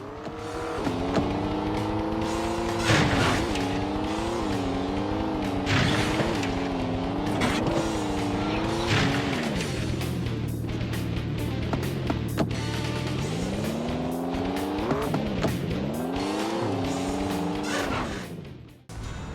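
Racing-game engine noise from a PlayStation title played with the NeGcon controller: a loud, continuous motor whine that revs up and down in repeated swells, with no speech over it.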